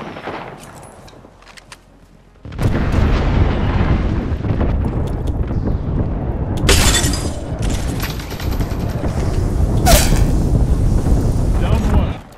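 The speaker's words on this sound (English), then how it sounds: "Signaling an airstrike." An airstrike in the Apex Legends video game sets off a continuous, loud barrage of explosions and rapid gunfire. It starts abruptly after a quieter opening and goes on unbroken to the end, with occasional sharp high bursts.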